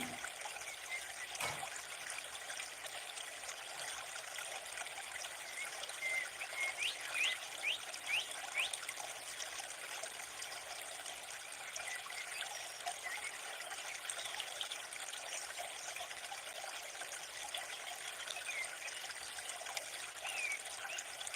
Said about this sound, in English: I'm waiting, letting my latte drip down.